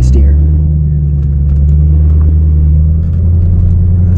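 A BMW M3 driven using hand controls gives a loud, steady low engine rumble from inside the cabin, holding an even drone throughout with a faint rise in pitch.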